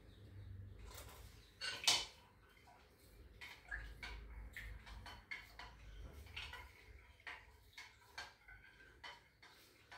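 A spoon stirs solkadhi in a metal pot, giving quiet repeated clinks and scrapes against the sides with one sharper knock near the start, close and without talk.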